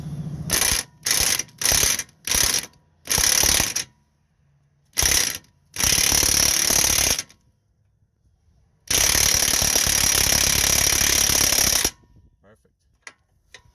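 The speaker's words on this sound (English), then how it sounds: "get a little swivel, go up, down on the angle, and we'll get that one. Same thing, combination wrench on the other side." Ratchet wrench with a swivel socket and a combination wrench turning control arm bolts on a 2008 Chevy Malibu: bursts of quick close ratcheting clicks, several short strokes followed by two longer runs with pauses between.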